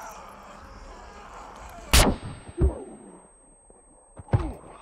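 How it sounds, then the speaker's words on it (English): Shotgun blasts in the survival video game SCUM, three loud booming shots spaced a second or two apart, each with a short echoing tail over quiet background ambience. "I hate these shotguns."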